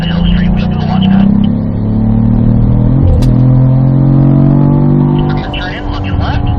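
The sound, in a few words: car accelerating uphill on a race track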